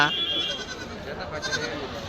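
Large male goats and goats bleat amid a steady babble of nearby voices, a noisy, crowded outdoor scene at a goat and sheep market in Kadiri.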